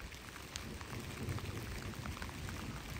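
Rain falls steadily outdoors, a faint, dense patter of drops spread evenly across a few seconds with no voices.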